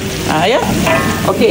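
Spices frying in a generous amount of hot oil give a steady close sizzle and crackle throughout, with brief stirring sounds and a short spoken remark over it.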